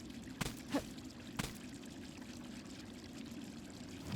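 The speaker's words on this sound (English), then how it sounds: "I'm interacting with the water stream sometimes." Water stream pouring steadily in Hollow Knight: Silksong, a soft continuous trickle with two brief louder splashes near the start, heard close and alone.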